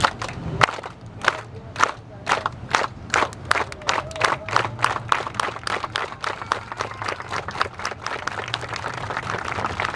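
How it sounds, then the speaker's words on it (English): A street audience in Amsterdam claps along in time with a performer's steps, sharp in-unison claps landing in a steady beat that quickens toward the end, with murmurs and a low hum underneath. "One step, one clap."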